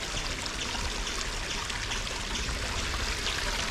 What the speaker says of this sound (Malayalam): അവിടെ നിന്ന് ഇങ്ങനെ വെള്ളം ഒഴുകി